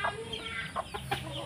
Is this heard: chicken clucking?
yes